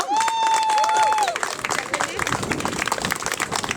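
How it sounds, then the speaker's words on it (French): Outdoor crowd at a protest rally against electroshock treatment claps and cheers, with a shrill whistle at the start fading into scattered, lively applause mixed with crowd noise. "Pour une belle main d'applaudissements."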